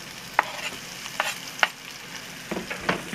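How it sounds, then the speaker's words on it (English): Onions sizzling in a hot skillet, a steady frying hiss under several sharp scrapes and taps from a stirring utensil, close up with no voices. "where do these onions go? You guessed it, right into that skillet."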